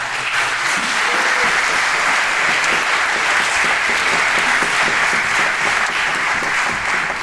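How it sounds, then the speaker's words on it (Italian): Sustained, loud applause from a concert audience honouring the musicians of a rhythmic-symphonic orchestra, an even wash of many hands clapping throughout with no break. "farei un attimo un altro applauso"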